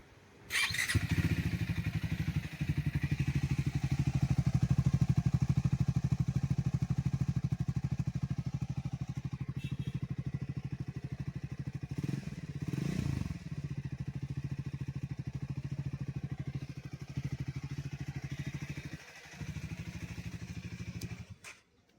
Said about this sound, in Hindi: मैं आपको बाइक स्टार्ट करके बताता हूँ और इसका एग्जॉस्ट नोट भी सुनाता हूँ।